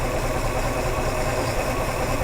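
A neglected Jeep engine with a carburetor runs at a close, continuous low idle, a dense steady rumble with no pauses.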